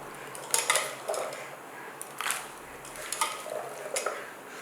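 Several light splashes and clinks as small yam cubes drop into a pot of boiling water, spaced irregularly over a steady background hiss.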